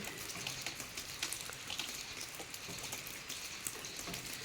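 Rain falls steadily outside a rural home, a faint, continuous hiss of drops with scattered soft patters throughout.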